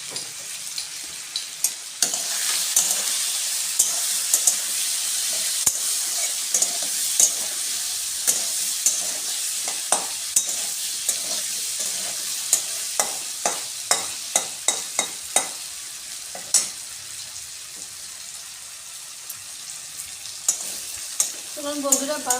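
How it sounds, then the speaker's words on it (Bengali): Potatoes seasoned with turmeric and salt fry in a pan with a steady broadband sizzle, broken by frequent sharp spoon scrapes and stirring clicks throughout. "চলুন বন্ধুরা, আলুটা ভাজা করে নিই"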